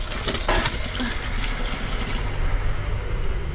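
Water being poured to change a pet's drinking water in a rural home: a steady, close gushing splash of liquid filling a container, continuous throughout with no talk.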